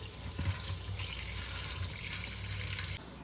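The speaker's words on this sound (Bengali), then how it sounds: "কচলে কচলে মাছ ধুয়ে দেখুন মাছটাকে পুরো সাদা করে দিয়েছি" Tap water runs steadily into a kitchen sink as fish is rubbed and washed in a Bengali home, a soft continuous splashing gush with a few handling knocks, cutting off near the end.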